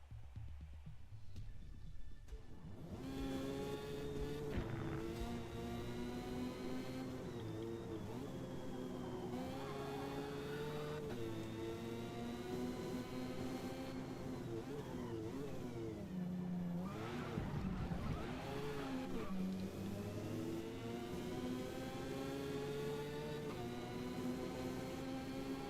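A Mazda RX-7 race car engine in the Forza Motorsport racing game revs hard and continuously, its pitch climbing and dropping through repeated gear changes, with brief tire squeal among the engine noise.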